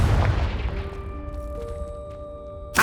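A Confringo explosive spell in Hogwarts Legacy bursts with a booming impact that decays into a ringing magical tail, followed by a sharp new burst at the very end; no talking.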